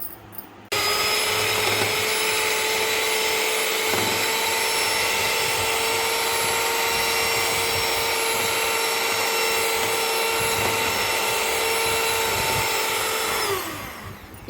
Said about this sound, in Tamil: ஒரு பவுலில் ஒரு மூணு முட்டை சேர்த்துக்கிட்டு ஒரு பிஞ்ச் சால்ட்டு சேர்த்துக்கிட்டு இதை கொஞ்சம் நேரம் பீட் பண்ணி எடுத்துக்கலாம்